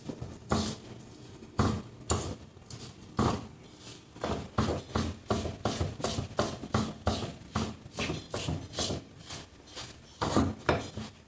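A spoon mixes a laddu mixture of roasted chickpeas, soybean and almonds in a metal pan, scraping and clinking in a steady run of strokes, close and clear with no talking.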